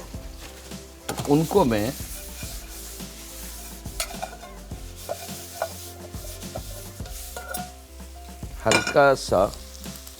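Almonds shallow-fried in a little oil, a soft continuous sizzle with occasional spoon taps and pan clinks, while someone speaks briefly over it at a couple of points.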